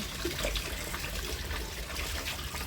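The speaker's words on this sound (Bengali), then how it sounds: "গাছটাকে ধুয়ে প্রথমে এটা বেশ করে পরিষ্কার করে দিলাম" Water running and splashing steadily while a jasmine plant and its roots are rinsed clean, a continuous close trickle with no voices.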